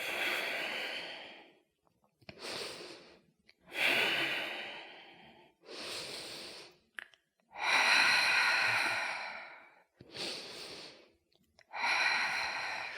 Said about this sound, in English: And we'll breathe deeply here.